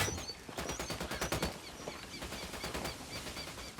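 Rapid automatic gunfire in the Ghost Recon video game, a fast rattling burst of shots that peaks early and continues more steadily, medium distance, no talking.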